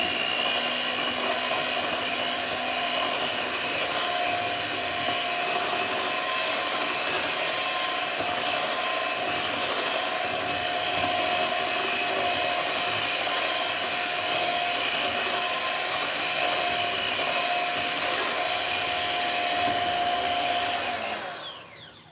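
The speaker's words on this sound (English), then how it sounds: "Let's mix this up and get it in the oven." An electric hand mixer whirs steadily through 7Up pound cake batter in a bowl, a loud, continuous motor drone lasting about twenty seconds before cutting off, with no voices.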